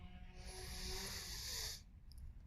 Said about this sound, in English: Taking a longer, slower breath